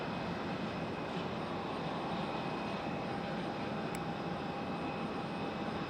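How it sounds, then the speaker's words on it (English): A Discover Airlines Airbus A330-300 bound for Frankfurt passes overhead at Raleigh-Durham airport, a steady broadband jet roar holding evenly throughout with no voices. "Will trying to get Discover Airlines flying overhead"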